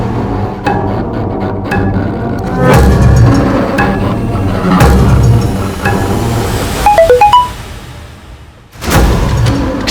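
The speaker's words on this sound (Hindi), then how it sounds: "किसका मोबाइल बजा?" A mobile phone ringtone in a tense crime-drama scene sounds as a short run of stepped melodic beeps near the end, over dense background music and ambience.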